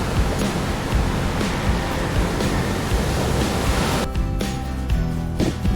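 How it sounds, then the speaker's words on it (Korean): Ocean surf on the Korean coast breaks steadily on the shore, a loud continuous roar of crashing, hissing water heard up close with wind, no talk. "파도가 너무 멋있어서 가다가 차 돌려갖고 다시 왔습니다"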